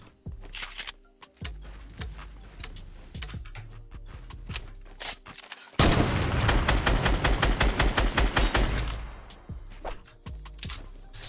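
Rapid SMG gunfire in the Fortnite video game, a dense burst of loud automatic shots lasting a few seconds, with scattered single shots and game sounds before and after.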